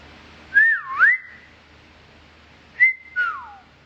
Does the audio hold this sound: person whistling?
yes